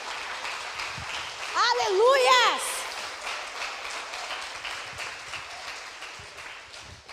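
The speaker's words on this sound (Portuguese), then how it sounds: "Aplauda o nome dele, igreja." A church congregation applauds at a worship service, with a steady wash of clapping under a voice. Another voice rises in a drawn-out sung or shouted phrase partway through, and the clapping carries on to the end.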